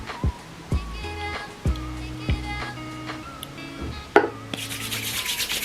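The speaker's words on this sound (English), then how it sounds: "Rubbing very well in my hand, and just touch my my ends." Olaplex hair product is rubbed between the hands, giving soft, close slick rubbing with a few dull thumps spaced through it and a hissy burst at the end.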